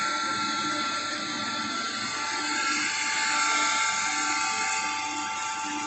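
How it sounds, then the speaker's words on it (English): A metal lathe spins at 800 RPM, machining across a small part held against a revolving centre, giving a steady close whine and hiss with faint cutting chatter underneath. "powering on our lathe. And now you are just machining in"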